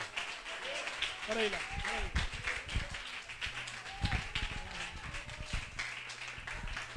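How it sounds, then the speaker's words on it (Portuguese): A church congregation claps their hands in applause to the Lord, a ragged burst of clapping under a speaking voice. "Aplauda ao Senhor."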